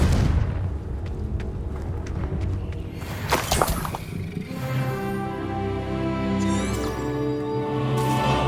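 Booming fire-spell blasts in Hogwarts Legacy, a dense roaring burst with whooshing surges and a sharp peak midway, settling into sustained rumbling layered with game music.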